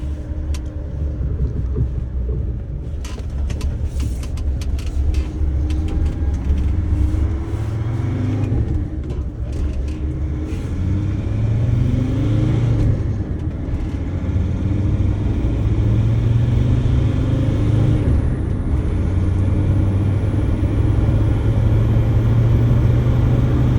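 Mercedes-Benz Sprinter W906 tow truck with a 2.7 OM612 diesel engine driving, giving a loud steady engine drone and road rumble that builds as it pulls in fifth gear, with no talk.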